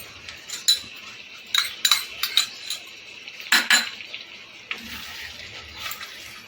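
Yogurt is stirred into chicken tehari in a pot, with a spoon clanking and scraping against the metal in irregular bursts, close and clear, separated by quieter moments with no talking.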